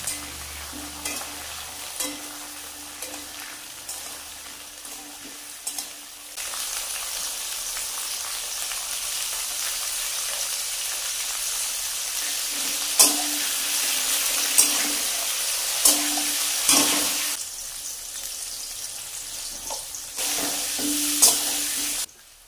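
Mango pieces and boiled lentils seasoned with salt and turmeric fry in a pan with a steady hiss, stirred now and then with scraping knocks and clinks from a utensil. The sizzle swells louder partway through.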